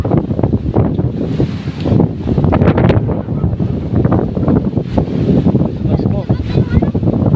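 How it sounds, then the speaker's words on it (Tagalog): Strong wind on a mountain buffets the microphone in loud, continuous gusts, with voices talking and shouting underneath throughout. "Lalong lakas ang hangin."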